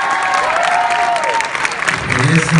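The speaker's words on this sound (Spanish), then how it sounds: "Fuerte aplauso, por favor." Applause at an award ceremony for best young actress, a crowd clapping loudly and steadily for a couple of seconds, with a voice speaking over it.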